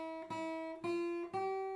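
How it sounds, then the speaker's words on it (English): A plucked guitar plays a simple, slow melody of three sustained notes, each ringing clearly with no voices. "if I play just the guitar part, just the melody, it sounds like this"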